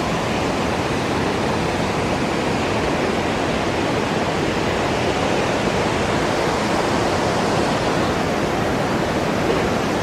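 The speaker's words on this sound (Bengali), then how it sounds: "দেখুন দুধের মতন সাদা জল অত উঁচু থেকে এসে পড়ছে" Montmorency Falls in Quebec pours down from a great height in a dense, unbroken roar of white water, heard up close and steady throughout.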